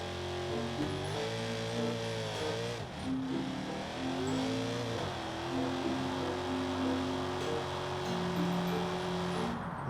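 Race car engine in BeamNG.drive droning and revving through rising and falling harmonic sweeps, with a brief dip near the three-second mark, loud and continuous, with no talking.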